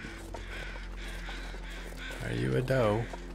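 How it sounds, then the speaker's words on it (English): Crows caw in the snowy wilderness of The Long Dark, repeated calls under game music and someone talking over them, louder toward the end. "I think I hear crows this way."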